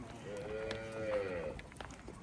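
Cholistani cross heifer giving one long, low, wavering moo that swells then fades, heard at moderate distance over faint farmyard background noise.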